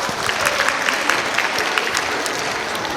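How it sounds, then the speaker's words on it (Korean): Steady applause from an audience at a children's science concert, dense continuous clapping at moderate loudness for a few seconds with no voices over it. "박수 한번 보내주세요"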